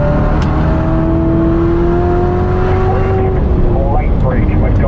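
A 2019 Corvette ZR1 on Cup 2 tires roars close and loud as it accelerates around a race track, its pitch climbing steadily before shifting, while a voice talks over the engine.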